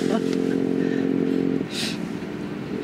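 A small motorcycle engine hums steadily while riding a road in cold weather around three degrees, with a brief wind rush and someone talking over it.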